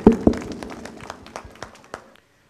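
Scattered hand clapping from a church congregation at a parish flower-offering Mass, a few loud claps at first, then thinning into sparse individual claps and fading out after about two seconds.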